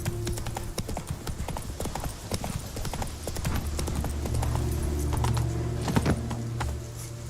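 Roach the horse gallops in The Witcher 3, with steady, fast clip-clop hoofbeats up close over a low ambient bed and a faint jingle of tack.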